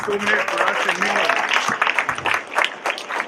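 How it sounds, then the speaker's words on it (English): Applause from a crowd at a drama performance during a Ganesh festival celebration, a dense patter of clapping mixed with voices and cheering, loud and close. "Big round of applause."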